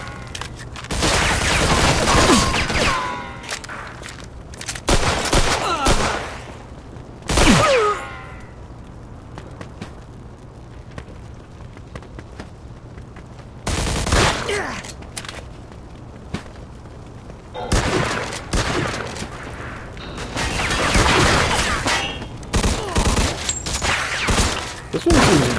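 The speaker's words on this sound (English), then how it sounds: "I'm over here dying and getting shot at." Bursts of gunfire in the video game Mafia 2, heavy volleys crackling loud in clusters separated by quieter pauses, with scattered single shots and booms across the stretch.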